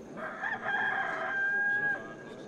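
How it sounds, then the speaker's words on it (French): A rooster crows in one long, drawn-out call at moderate distance, steady and clear over faint background ambience. "À ce moment-là, le coq se met à chanter."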